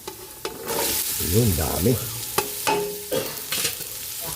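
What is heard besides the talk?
garlic and onions sizzling in frying pan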